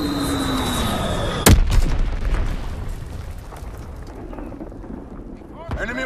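A mortar shell bursts in Call of Duty: WW2 on a Hardpoint match, one sharp loud blast that rolls into a long rumbling decay over steady battlefield noise, with a fainter second impact near the end and voice callouts from the game.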